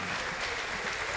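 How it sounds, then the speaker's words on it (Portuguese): Brief burst of audience applause at a live hypnosis show, a thick, continuous wash of clapping from a crowd, fairly loud and steady throughout the short moment. "Uma salva de palmas"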